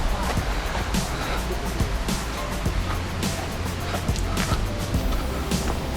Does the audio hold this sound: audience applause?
no